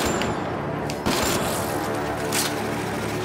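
Continuous dense gunfire in the sci-fi video game Mass Effect Andromeda, a steady loud barrage of rapid shots and impacts filling the whole stretch with a few sharper blasts.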